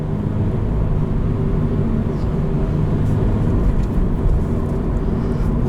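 Steady engine drone from a 2020 Subaru BRZ with a manual gearbox, heard from inside the car while driving; a continuous low rumble holds even and fairly loud throughout, with no voices.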